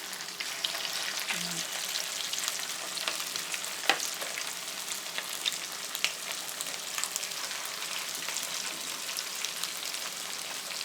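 Banana blossom fritters fry in oil over medium heat, giving a steady, dense sizzle with scattered crackles and pops. It runs close and continuous throughout, with no talk.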